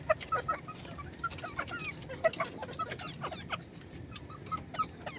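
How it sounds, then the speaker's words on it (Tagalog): A rooster clucks in a string of short, separate calls spaced unevenly over a quiet farmyard background, fairly close and moderately loud. "Ito naman yung tandang na to"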